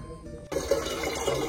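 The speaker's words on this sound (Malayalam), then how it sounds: "ഇത് നമുക്ക് കുടിക്കാനുള്ള വെള്ളം നിറയ്ക്കാം" Drinking water filling a vessel: after a half-second of near quiet, a steady gush of pouring, splashing water starts abruptly and runs on at moderate level to the end.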